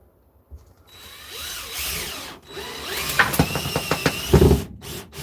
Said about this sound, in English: Screwing this part in.